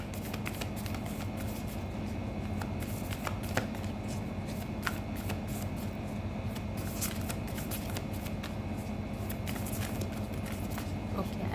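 Tarot cards are shuffled and handled in a steady flurry of soft papery riffles and flicks, continuous and close, over a constant low background hum.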